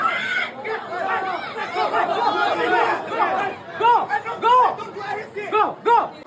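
A dense crowd of people queuing for Labubu dolls fills the space with overlapping chatter and raised voices, a close, continuous babble with sharper shouts toward the end.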